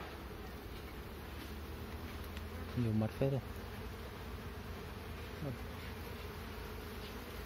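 Honeybees hum around a hive on a sunny day, a steady soft drone close by with occasional louder passes, while a person speaks briefly over it.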